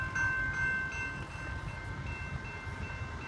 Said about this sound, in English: we've got a freight train coming westbound